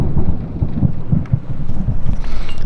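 Low rumbling thunder rolls through a lightning storm over a river during a first-time inflatable kayak trip, a steady deep grumble with soft pulses, fairly close and continuous for a few seconds, with no voices.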